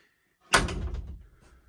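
A single sharp bang as the toilet door on a Delta 26 Open boat swings shut against a magnet catch, followed by a short rattling decay; close and fairly loud, otherwise quiet.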